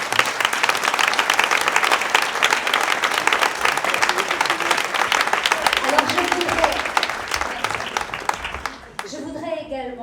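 Sustained, loud audience applause at an evening mobilisation event, thick even clapping for about nine seconds with a voice rising briefly over it before it fades.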